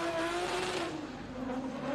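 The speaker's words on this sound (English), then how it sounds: "On that limiter as he pushes the car to the final clip zone with the brakes on" A drift race car in a Grand Prix Top 16 battle holds its engine on the rev limiter, a loud, steady, buzzing high-rpm drone with faint tire squeal, close and continuous throughout.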